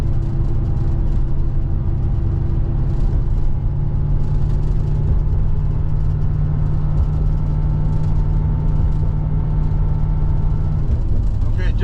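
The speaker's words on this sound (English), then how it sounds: "Just shifted, it went, you know, downshifted like it's supposed to, and it just upshifted like it's supposed to." Cabin drone of a car cruising on a highway, a steady low engine and road hum with a brief shift in tone near the end as the transmission changes gear, continuous and fairly loud.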